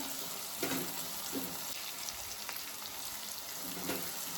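Oil sizzles steadily in a pan while cabbage bhaji cooks, a soft, even crackle with a few louder pops of spatter, and no voices over it.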